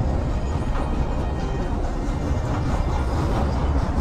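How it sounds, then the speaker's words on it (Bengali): A freight train passes at Farakka, a steady loud broadband rumble of rolling wagons held evenly throughout with no voices over it. "দেখো কপালও ভালো আমাদের, ট্রেন দেখতে পেয়ে গেলাম।"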